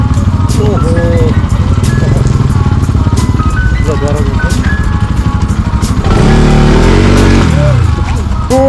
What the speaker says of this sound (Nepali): अर्को बाइक